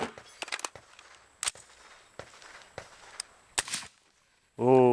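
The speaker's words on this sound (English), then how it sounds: "We'll put a couple more rounds through it a little bit faster and see how she cycles. But honestly, with the suppressor, it's soft." Several suppressed shots from a PSA JAKL piston-driven rifle, each a sharp muffled crack spaced irregularly with quiet gaps between, followed by someone speaking at the end.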